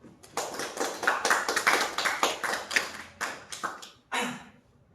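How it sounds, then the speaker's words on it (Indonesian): A few people clap by hand in a podcast studio, sharp close claps in an irregular run of about a dozen beats that trails off, with no talking over it. "Tepuk tangan lo kali."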